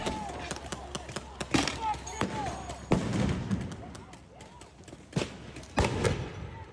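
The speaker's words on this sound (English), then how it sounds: "There's the fireworks trying to stop the cops." Fireworks go off during a street riot near police lines, a series of sharp loud bangs and thumps spread irregularly over several seconds, with crowd noise and shouting voices underneath.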